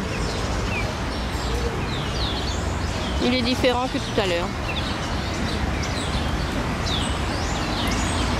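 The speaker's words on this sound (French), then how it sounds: "On entend les petits oiseaux." Small birds chirp in a shaded park near the port of Almería, with scattered high calls running throughout over steady outdoor background noise and a person talking in the middle.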